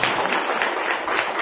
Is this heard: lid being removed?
no